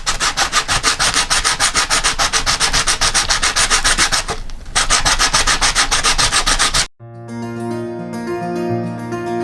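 Steady rhythmic sanding rasps across a cut coconut shell to smooth it, close and loud with fast regular back-and-forth strokes, briefly pausing midway and then cutting off abruptly before a different tonal sound takes over.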